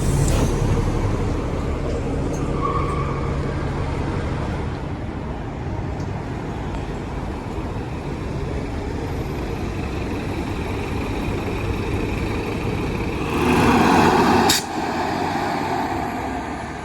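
Interior of a Seattle double-deck city bus heard from the empty upper deck: steady engine drone and road rumble throughout, with a brief hissing burst near the end.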